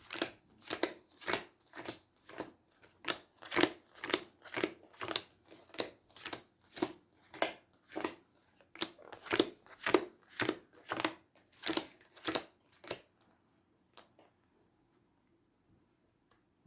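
Cards are shuffled by hand in a quick, regular rhythm of soft slapping bursts that continues for several seconds, then stops into near silence.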